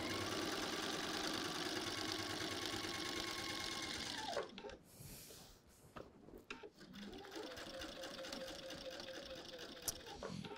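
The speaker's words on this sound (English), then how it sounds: "this is top stitching on a very visible surface of fabric" A sewing machine top stitches a fly front zipper on visible fabric, running in a steady close whir that slows and pauses midway, then starts again with a rising hum.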